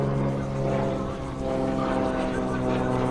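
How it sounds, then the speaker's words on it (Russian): An airplane passing overhead in the Mexican desert, a loud steady droning engine hum with strong tonal bands, close and continuous. "Самолет."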